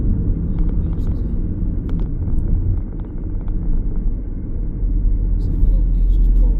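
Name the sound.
Skoda Superb 1.6 TDI driving on motorway at speed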